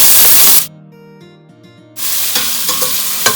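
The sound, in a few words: onion frying in a pan for masoor pulao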